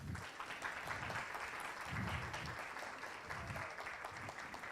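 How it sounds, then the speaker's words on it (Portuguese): A small audience at a talk on constructed languages claps together, a soft, far-off patter of hands lasting several seconds without a break. "Um aplauso para o Jurobola aí."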